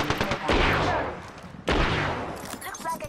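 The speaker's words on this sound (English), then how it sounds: "Listen up, I'm getting shot at." Close bursts of automatic gunfire in Apex Legends, with two loud rattling volleys that each trail off, followed by quieter scattered shots.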